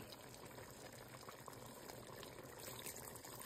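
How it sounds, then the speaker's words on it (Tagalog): Water pouring into a cooking pot of simmering pork with vegetables about to be added: a steady, faint gushing splash that runs throughout without pause. "Lagyan natin ng konting tubig."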